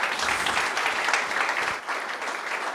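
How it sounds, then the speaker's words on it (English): Audience applause for a panel of speakers at a talk on opportunities for local artists, a dense, steady wash of many hands clapping throughout, fairly loud and without speech. "Let's give them a round of applause."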